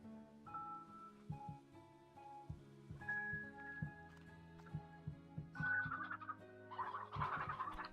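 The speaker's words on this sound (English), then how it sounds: "What happened to your rooster?" A rooster in the video game Slime Rancher 2 clucks and gobbles in short, repeated bursts over a low humming background, growing busier and more layered toward the end.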